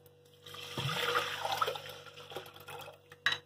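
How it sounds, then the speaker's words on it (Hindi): Water poured into a pressure cooker holding washed rice and lentils for khichdi, a soft splashing pour that swells and fades, with a small clink near the end. "इसके अंदर हम पानी ऐड कर देंगे"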